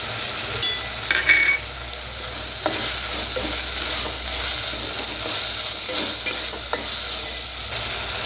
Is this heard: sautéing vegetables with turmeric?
yes